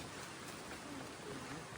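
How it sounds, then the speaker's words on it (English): Light rain falls on the Appalachian Trail, a faint, even patter of drops on surfaces with no other sound standing out. "it's starting to rain again"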